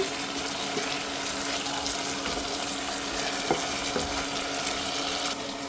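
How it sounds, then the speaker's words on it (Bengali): Beef pieces sauté in a hot pan without spices for a potato and beef curry, giving a steady close sizzle and frying hiss with faint stirring and a few soft clinks throughout. "প্রথমে মশলা ছাড়া একটু কষিয়ে নিচ্ছি।"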